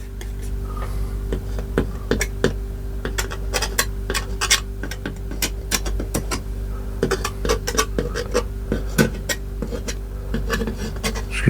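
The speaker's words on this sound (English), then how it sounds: "doing it with the old palette knife" Scratchy, irregular scrapes and taps of an old palette knife working paint onto canvas while painting twigs and branches in a contemporary landscape, close and fairly quiet over a steady low hum, with no talking.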